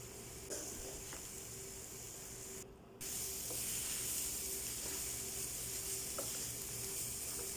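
Prawns and chopped ripe tomato sauté in a pan for a Kerala-style prawn roast, giving a steady, close hiss and sizzle with a few faint stirring clicks and a brief drop in the noise partway through, with no talking.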